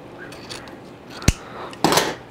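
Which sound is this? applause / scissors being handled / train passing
scissors being handled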